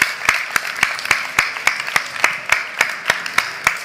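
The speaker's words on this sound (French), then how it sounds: "On peut vous applaudir." Audience claps in unison for a chef at a food festival cooking masterclass, a loud, regular rhythmic beat of about four claps per second, each clap sharp and distinct, with little else underneath.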